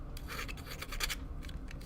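A small plastic Gunpla model part being sanded, producing short, close rasping scratches in a quick uneven rhythm, with no talking.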